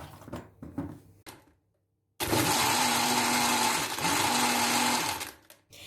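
After some soft handling clatter, a blender kicks on abruptly and whirs loudly and steadily for several seconds blending a strawberry smoothie, its pitch shifting slightly before it cuts off.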